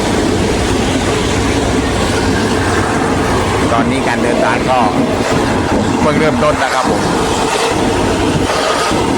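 Local train 447 running from Surat Thani to Sungai Kolok rolls steadily on southern Thai rails, a continuous loud rumble with clickety-clack wheel beats throughout, while someone talks over it.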